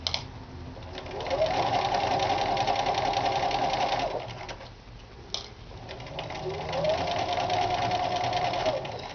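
A sewing machine stitches fabric for a headcovering veil, running in two sustained bursts of fast, even mechanical whirring with a brief quiet pause between them, loud and close.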